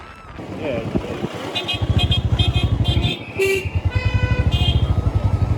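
A motorcycle engine putters steadily with a rhythmic pulse, close by, on a winding Himalayan mountain road between Almora and Munsiyari, while a voice talks over it and a horn toots briefly.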